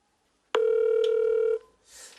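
A telephone line sounds as a call is placed to a family member: one loud, steady electronic tone lasts about a second and then cuts off, followed by a faint soft rustle.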